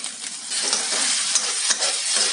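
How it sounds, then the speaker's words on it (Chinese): Instant noodles with sea cucumber, egg, seasoning powder and soy sauce are tossed in a wok, giving a bright, continuous close sizzle with faint scraping from the stir-frying. "稍微翻炒一下，我们这个炒面就完成了"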